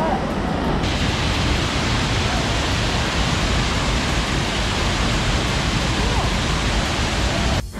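Water pours from a small dam in Munnar in a loud, continuous broadband roar that stays close and steady and drowns out everything else.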